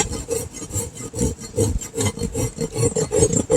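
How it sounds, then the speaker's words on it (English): A rasp filing down a mini pony's hoof during a trim, loud close rhythmic rubbing strokes repeating steadily about every quarter second, with no talking. "I just prefer to rasp it down a little bit here and there."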